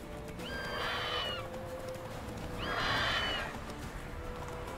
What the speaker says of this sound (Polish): szybko wchodzimy na konia.